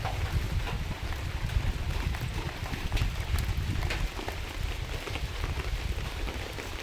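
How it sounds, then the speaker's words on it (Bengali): Steady rain falling, a dense continuous patter with occasional sharper drops, moderately close with a low rumbling background. "বৃষ্টি হচ্ছে বৃষ্টি ভিজেই চলে এসেছি"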